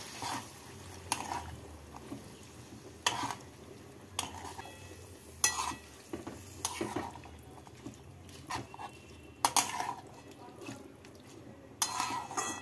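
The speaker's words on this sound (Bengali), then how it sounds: "মেথি শাক দিয়ে রাজমার সাথে নাড়াচাড়া করে নেব।" A utensil stirs boiled fenugreek leaves into kidney beans in a pan, giving faint, irregular scraping and clinking strokes over a quiet sizzle, repeated every second or so.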